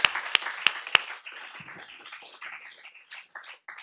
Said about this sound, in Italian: un applauso veramente